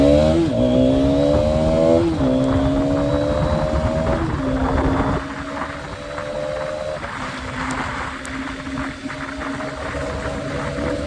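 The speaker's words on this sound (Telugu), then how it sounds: "ఇప్పుడు దీన్ని నార్మల్గా ఒక ఎగ్జాస్ట్ సౌండ్ మీకు వస్తుంది అనుకుంటా, ట్రై చేద్దాం" Hero Xtreme 250R motorcycle engine and exhaust running steadily up close, with a few rising and falling rev changes early on before settling into a lower, even idle-like drone; no talking.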